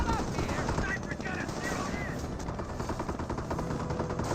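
Rapid gunfire crackles through a Company of Heroes battle as a sniper comes under attack, dense bursts running steadily under a commentator's voice and general combat din.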